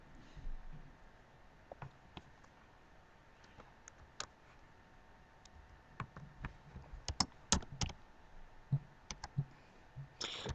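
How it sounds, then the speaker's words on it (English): Irregular clicks of typing on a computer keyboard, quick keystrokes in uneven bursts with short pauses, close and fairly quiet with no talking. "I'm gonna have to do this the way I did it the other times, by actually typing it."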